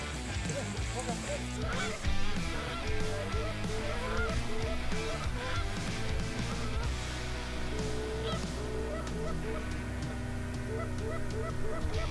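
A dense chorus of geese honking continuously, loud and close, during a goose hunt, with voices occasionally speaking underneath the constant calling.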